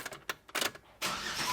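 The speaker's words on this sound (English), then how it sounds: "Fire up the engine." A 2007-2018 Jeep Wrangler, fired up with a newly programmed key, gives a few quiet clicks before the engine catches into a steady rushing roar, fairly close by.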